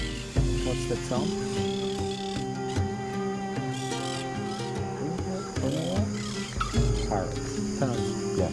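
Harsh, squawking parrot calls ring out repeatedly in the Pantanal over a steady background hum, with several bursts of chattering cries mixed among the noise.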